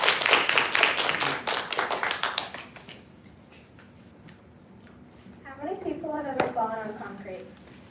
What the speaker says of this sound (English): let's give a big round of applause for Carly.